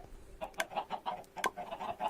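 Minecraft chickens on a server farm cluck repeatedly in a quick, uneven series of short, moderately loud calls, several overlapping near each other with no voices.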